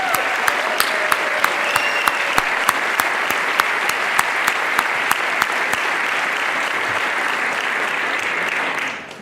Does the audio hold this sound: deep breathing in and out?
no